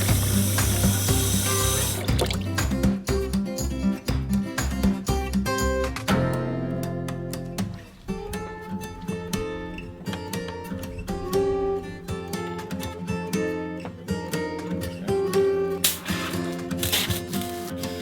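Water rushing through a filter into a shower in a Unimog camper plumbing build, mixed with clanking, ratcheting mechanical noises and strong tonal hum, loud and continuous.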